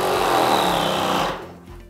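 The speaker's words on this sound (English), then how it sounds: "Come over to the knob and you put it to the prime position" A Wagner Control 150 M airless paint sprayer pump primes, giving a loud, close, rapidly pulsing mechanical buzz that holds steady, then cuts off abruptly and leaves a low, quieter hum.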